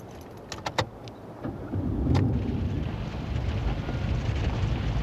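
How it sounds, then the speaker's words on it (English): Jeep starting in gear on the starter and crawling off-road, a few clicks and clunks followed by the engine catching and settling into a steady low rumble nearby. "Just let the vehicle start crawling, which it'll do automatically with the starter."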